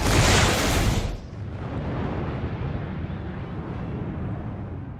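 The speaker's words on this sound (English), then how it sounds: "leading to a massive fiery green explosion that disintegrates her rivals" A massive green wildfire explosion from a Game of Thrones scene erupts in a loud, broad blast for about a second, then collapses into a long, low rumbling roar that fades slowly.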